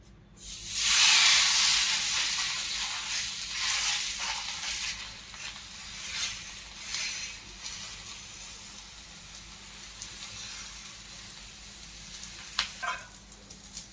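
Dhapate flatbread sizzles and hisses in hot oil on a griddle, a loud initial crackle settling into steady frying with occasional pops.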